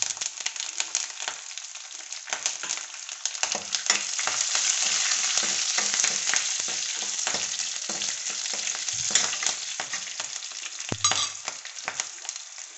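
Curry leaves with dried and fresh green chillies hit hot oil for tempering, giving a loud, crackling sizzle with scattered spitting pops that runs throughout, with a brief clunk near the end.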